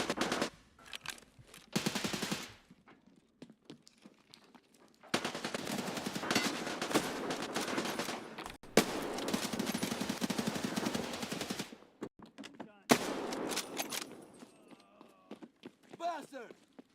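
Escape from Tarkov gunfire comes in long, loud bursts of automatic shots, broken by short quiet gaps and footsteps, with a person talking between the bursts.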